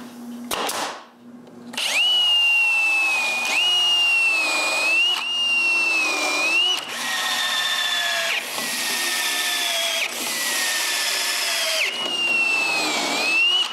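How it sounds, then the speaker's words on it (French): A power drill drives screws into glued wooden supports for a homemade edge sander. The close, loud motor whine comes in several long runs with brief dips between screws. "je peux les coller et les visser ensemble"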